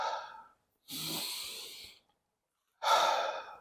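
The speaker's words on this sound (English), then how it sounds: "breathe in through your nose, 3 seconds, and out through your mouth" A person breathes in through the nose and out through the mouth, apparently into a breathing tube, producing three close, airy breaths separated by short silences.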